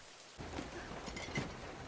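Rain falls at night outside a gas station, a soft continuous patter that swells in after a brief quiet opening, with a couple of faint thuds and a low rumble, quiet and steady.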